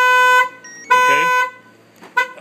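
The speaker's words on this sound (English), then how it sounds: "If you wish to fire off the alarm, you're going to hold the lockdown and you can fire the alarm off." A Kendall car alarm blares in three loud, close electronic honks separated by short gaps, the last one cut short.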